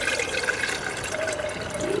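About two cups of boiled snow water poured at a winter camp, a continuous splashing, trickling pour close by that runs steadily throughout without talk.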